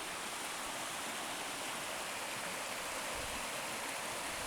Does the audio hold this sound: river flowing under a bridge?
yes